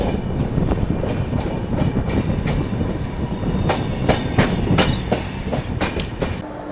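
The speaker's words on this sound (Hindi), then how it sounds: "अपनी ट्रेन यहाँ पे अभी पहुँच रही है कसारा रेलवे स्टेशन" The Mumbai–Nagpur Duronto Express pulls into Kasara railway station, with loud, continuous clickety-clack of wheels over rail joints and occasional metallic squeals as the carriages roll close by.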